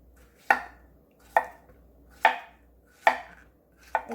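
Knife chopping washed zucchini on a cutting board, five crisp evenly spaced strokes close up in a quiet kitchen.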